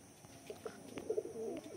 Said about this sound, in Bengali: এখানে দেখো ফার্স্টে রাহুল ভাইয়ের শার্টিন পায়রা রয়েছে